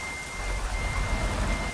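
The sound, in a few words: rain falling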